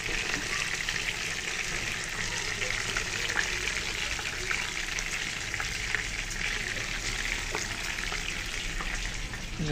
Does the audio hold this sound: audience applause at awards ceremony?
no